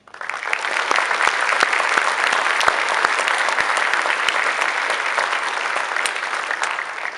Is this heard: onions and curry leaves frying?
no